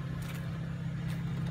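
A Saturn Vue's engine idles smoothly with a steady low rumble, even and unbroken for a moment.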